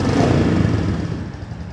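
A Royal Enfield Bullet 350 with the J-series engine runs steadily nearby, a loud, even mechanical drone that eases slightly toward the end, with no voices.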